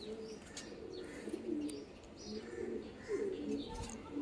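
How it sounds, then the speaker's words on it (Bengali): A male Malbai pigeon coos in soft, repeated low phrases against background noise, with a few faint chirps mixed in. "হ্যাঁ, নর পায়রা, মালবাই নর।"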